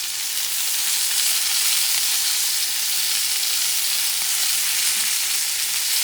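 Blackened rainbow trout frying in a pan with a squeeze of lemon, a loud, dense and steady sizzle held close throughout without any voices.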